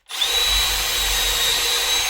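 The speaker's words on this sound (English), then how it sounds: "And then you get your drill" A power drill spins up and bores a guide hole in wood for a vegetable basket, a loud, close, steady high whine that starts abruptly and holds for about two seconds.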